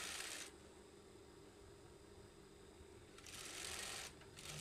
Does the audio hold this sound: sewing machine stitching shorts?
yes